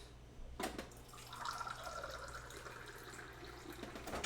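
Water runs from a tap into a small shot glass, a faint continuous trickle rising in pitch as the glass fills, preceded by a soft knock, heard quietly with no talk.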